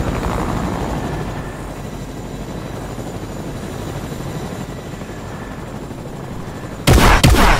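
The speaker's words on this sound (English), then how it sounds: "Oh, frick, I shot the helicopter." Steady helicopter rotor drone in a shooter video game, continuous and fairly loud, ending with a burst of sharp gunfire shots near the close.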